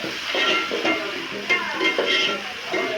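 Chopped tomatoes stirred into frying masala in a pan, with a steady close sizzle and repeated scraping stirs for a few seconds, no voices.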